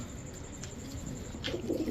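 A pigeon kept for sale coos softly nearby, a brief low rolling call near the end of a quiet stretch.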